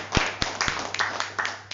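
An audience claps at a health product presentation, a handful of distinct claps followed by scattered, uneven clapping, close and moderately loud.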